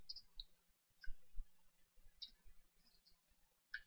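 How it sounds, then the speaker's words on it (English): Computer keyboard typing in a quiet room: a short, sparse run of soft key clicks spread unevenly over a few seconds, with no other sound. "I'm going to type"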